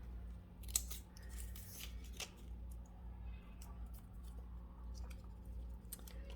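Scissors snipping through folded green paper to cut heart shapes, a quick series of close, crisp cuts with uneven rhythm and quiet handling noise between them.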